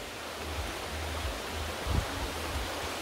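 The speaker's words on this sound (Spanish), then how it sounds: "Pero ahora estoy llegando ya al río." A river approached on foot outdoors gives a steady broadband wash of flowing water, fairly quiet and constant, with a brief low thump near the middle.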